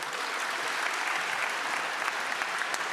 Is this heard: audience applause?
yes